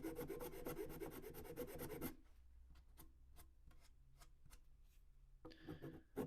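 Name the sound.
light sanding of wooden shoe heel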